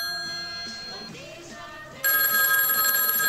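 A telephone rings during a broadcast, its bright electronic tone starting abruptly partway through and holding steady and loud over a faint hum.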